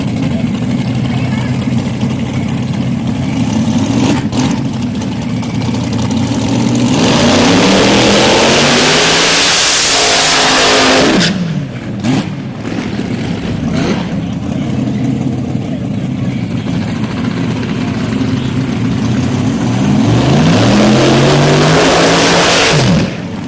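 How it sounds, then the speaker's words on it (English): A PDRA Elite Chop Dragster races down the drag strip at Motorsports Park Benson, its loud engine roaring and revving continuously under trackside commentary, rising to sweeping peaks before a brief dip and another surge near the end. "Elite Chop Dragster, I believe."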